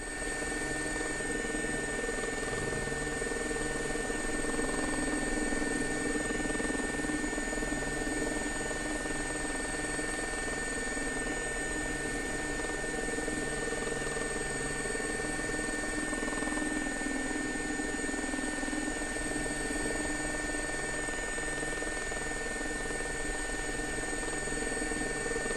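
A Gazelle helicopter in the X-Plane 11 flight simulator drones steadily from inside the cockpit, a constant rotor and turbine hum with fixed high whines, unchanging for the whole stretch and free of talk.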